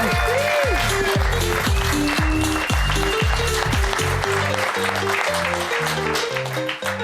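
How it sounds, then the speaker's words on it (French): A comedy show audience applauds steadily throughout, the clapping blended with loud music carrying a repeating bass line. "on peut applaudir Farah Paul, mesdames et messieurs"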